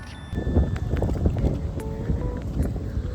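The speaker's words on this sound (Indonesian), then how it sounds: "setiap kali ngelewatin daerah ini tuh anginnya gila banget guys" Strong wind roars steadily across the microphone, a dense low rumble with gusty swells throughout, and no voices.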